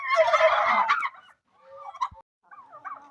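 Male turkeys on a farmyard homestead let out a loud, rapid gobbling burst, followed by a couple of shorter, quieter gobbles and calls close by.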